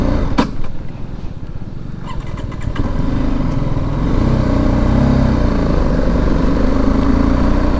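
A motorcycle engine runs close by with a steady, throaty rumble that grows louder and fuller partway through, under light rain, with no voices.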